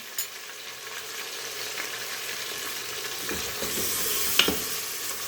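Chopped ginger and garlic sizzling and frying in a pan for shaljam gosht, a mutton and turnip dish, with faint stirring scrapes partway through; no talking.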